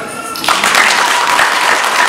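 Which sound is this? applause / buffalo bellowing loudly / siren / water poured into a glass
applause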